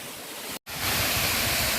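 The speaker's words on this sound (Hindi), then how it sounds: "ये अभी वो झरना पहुंच गया हम लोग का जो डेस्टिनेशन था" A tall waterfall in Koloriang, Kurung Kumey, roars as a steady broadband rush. It cuts out for a split second, then returns fuller and louder, with no voices.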